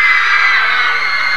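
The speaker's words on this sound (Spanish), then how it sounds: "chicas, un grito por Spaghetti." A crowd of girls screams loudly and steadily for a rap group at an award presentation, a sustained high-pitched shriek with no break.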